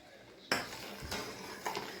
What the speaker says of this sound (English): Mixing it around.